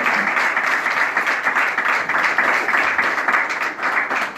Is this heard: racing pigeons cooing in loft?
no